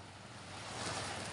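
Sea waves wash onto the seashore as a soft, faint surge that swells slightly toward the end, mixed with light wind rush and no voices.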